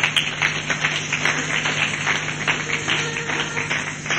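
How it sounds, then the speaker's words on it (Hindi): A large audience at a business motivational seminar gives sustained applause, a dense, even wash of many hands clapping together at moderate loudness, with no break for the whole stretch. "मैं एक बार आपका पुनः हार्दिक स्वागत करता हूं जोरदार तालियों के साथ"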